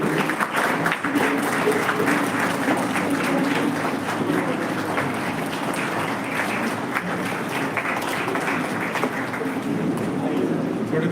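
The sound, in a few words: applause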